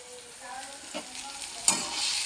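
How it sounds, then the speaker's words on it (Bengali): Pasta tipped into a hot pan sets off a sizzle and stirring scrape, with a couple of sharper clatters as it lands, close and moderately loud, no voices. "এবার আমি পাস্তাটা আমার ঢেলে দেবো।"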